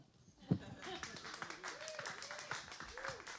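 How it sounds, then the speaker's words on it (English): At a comedy night stage show, one sharp hand clap rings out from the audience early on, followed by a voice talking over quiet room murmur. "Yeah, keep that single clap going."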